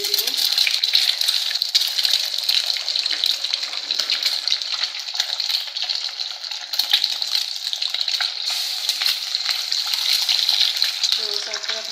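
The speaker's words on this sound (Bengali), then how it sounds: "আমি ডিমটা ভেজে নিতেছি। এটা হালকা করে ভেজে নিব।" Eggs frying lightly in a pan, with browned meat cooking alongside them, give off a steady, bright sizzle. The crackle stays close and fairly loud for the whole stretch with no break.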